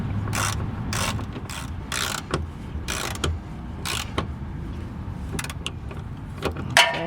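Socket wrench ratcheting in a series of quick bursts on a rear sway bar bolt of a Honda Civic, close and crisp clicks with short pauses between strokes, plus a brief metallic clatter near the end.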